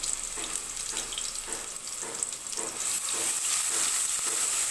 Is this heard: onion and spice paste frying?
yes